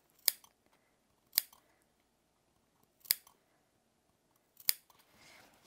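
Scissors snip four times through the seam allowance of a shirt collar with a stand, each cut short and crisp with pauses between, ending in a soft rustle of fabric.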